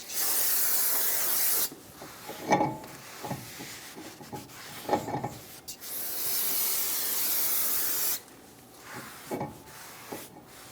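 Aerosol brake cleaner sprayed onto the front brake rotor of a 2013-2018 Hyundai Santa Fe, two long loud hissing bursts separated by shorter spurts and wiping rubs, close up.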